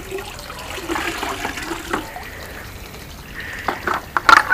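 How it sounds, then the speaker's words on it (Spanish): Pond water is poured over an aquarium-style pond filter to rinse it, giving a steady splashing trickle, close by and moderately loud, with louder bursts of splashing near the end. "vamos a ir agarrando agua del propio estanque y le vamos tirando, que se vaya lavando, pero con agua del estanque"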